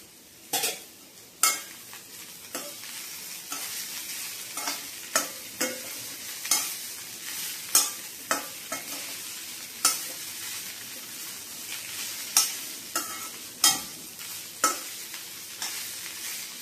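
Beetroot and coconut with green chilli fry in a pan with a steady sizzle, broken by regular scraping stirs of a spoon against the metal every second or so, close and alone.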